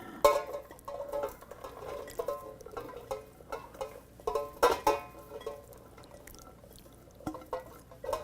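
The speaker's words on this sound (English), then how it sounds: "put it right here in my pot, and I'm going to put my corn in." Corn kernels go into a cooking pot for corn soup, with scattered pattering and rattling bursts and a few louder clatters over about eight seconds, close by with no talking.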